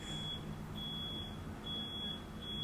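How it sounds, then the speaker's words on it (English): A high, thin electronic tone beeps repeatedly in long steady pulses, fairly quiet over a low background hum. "Please ignore the beeps. They're everywhere."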